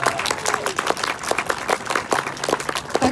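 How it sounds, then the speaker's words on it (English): An audience applauds at an interview and autograph session, a close, dense burst of clapping that lasts a few seconds. "A big round of applause."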